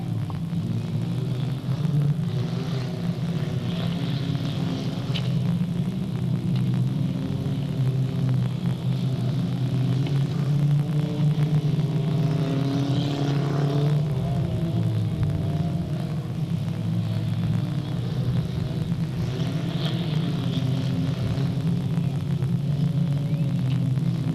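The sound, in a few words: race cars on final lap at Delta Speedway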